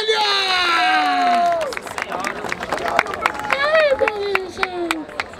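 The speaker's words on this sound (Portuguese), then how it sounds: "Palmas pra essa batalha!" A crowd at a street rap battle in Barueri shouts, whistles and claps after a verse, with loud rising and falling cheers over scattered sharp hand claps and a lively, noisy roar.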